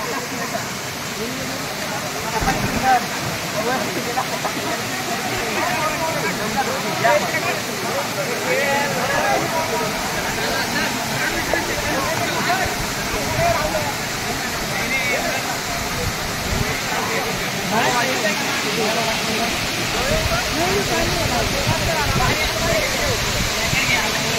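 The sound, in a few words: Kalmandvi waterfall rushing water, Jawhar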